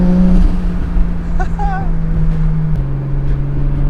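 The Japanese inline-six engine of a GT-R swapped 240sx drones steadily and loudly, its pitch stepping down slightly near the end, with a brief voice speaking over it.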